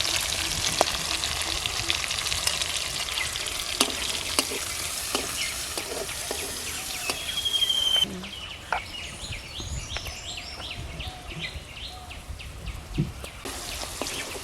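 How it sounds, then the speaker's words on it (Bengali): Garlic, onion and chilli with a pinch of turmeric sizzle in hot oil with a steady crackling hiss. Occasional stirring knocks sound through, and the frying grows quieter partway through. "রসুন পেঁয়াজ ভাজা হয়ে গেছে"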